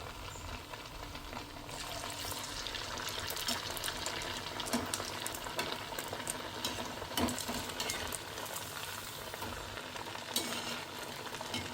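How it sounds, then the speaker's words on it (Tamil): Nai pathiri dough rounds fry in hot oil over medium flame, giving a soft, steady bubbling sizzle with faint clicks as they are flipped from side to side. It is quiet, with no talking. "அந்த பக்கம் இந்த பக்கம் திருப்பி போட்டு நம்ம இது பொரிச்சு எடுக்கணும்."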